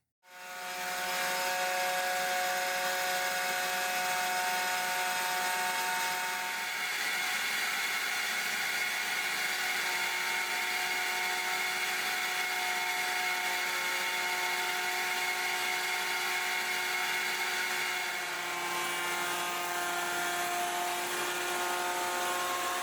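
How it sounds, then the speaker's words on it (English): A CNC machine routes and flattens an epoxy-filled slab, a steady, loud high-pitched whine and cutting hiss running continuously with slight shifts in tone as the bit passes, no voices. "I used my CNC machine to do all the work for me"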